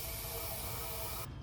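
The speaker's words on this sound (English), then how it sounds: "we'll get some starting fluid and we'll see what happens" Starting fluid sprayed from an aerosol can into the engine of an antique Allis Chalmers B tractor, a steady close hiss lasting just over a second before cutting off.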